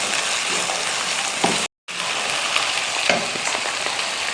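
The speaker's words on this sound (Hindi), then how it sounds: "उसी के बाद हमने फ़ौरन हरी मिर्चें और गाजर डाल के तकरीबन 1 मिनट इसको हम मिक्स करते हैं।" Green chilies and carrots fry in a pan for spicy pasta, giving a loud, dense, close sizzle with stirring scrapes and light clinks. A brief dead-silent break interrupts it partway through.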